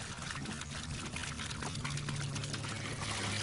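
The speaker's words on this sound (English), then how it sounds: "The chamber will fill pretty quickly, and you'll try to tread water." Water gushes steadily into a sealed stone chamber whose exits are blocked, a continuous loud rushing pour with a low resonant hum underneath, no voices over it.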